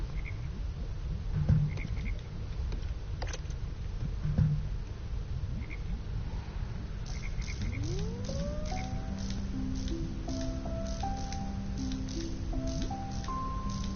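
Frogs in the video game Her Majesty is Spiffing, a few croaks early on over a constant game-music hum, followed by a series of rising and stepped electronic tones.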